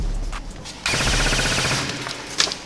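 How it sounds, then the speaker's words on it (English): A G&G ARP-9 airsoft gun on an 11.1 volt battery firing on full auto, a close, loud rapid mechanical rattle of about 15 rounds per second lasting roughly a second, preceded by a few faint clicks. "Now let's chuck it on full auto."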